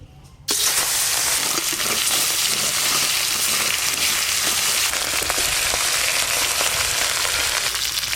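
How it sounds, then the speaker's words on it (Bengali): Ramchela river fish frying in hot oil hiss and sizzle loudly and steadily from a sudden start, a dense close crackle that holds without pause. "এবার রামচেলা মাছগুলো ভালো করে ভেজে নেব।"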